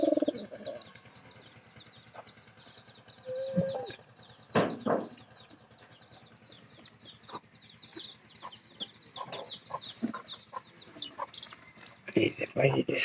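Pigeons and other birds in and around a new pigeon house with feed set out in front, giving scattered chirps, coos and clucks near and far, with brief bumps and rustles throughout and some background voices.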